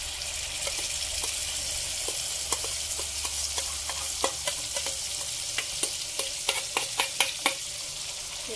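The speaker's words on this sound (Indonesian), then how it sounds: "Kita goreng sambelnya hingga matang." Green chili sambal frying in a nonstick pan, with a steady low sizzle and scattered sharp pops and clicks of stirring that grow more frequent toward the end, with no voices.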